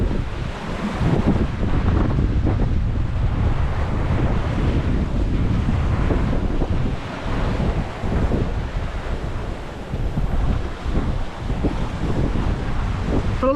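Rough, messy open sea during a solo Atlantic sailing crossing: constant loud, close rushing of waves and surf with heavy wind buffeting the microphone, surging and churning without pause and no voices.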